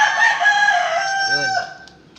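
A rooster crows once in a long, strained cock-a-doodle-doo, close and loud, its harmonic call holding steady before trailing off as the bird finishes.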